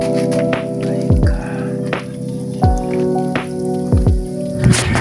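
Water leaks from a cracked stainless faucet pipe, giving a steady hiss with several distinct drip-like plops landing at irregular intervals over a constant background hum.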